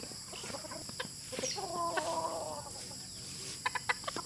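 A hen clucks softly nearby in short, repeated bursts, with a faint high hum in the background and no talking.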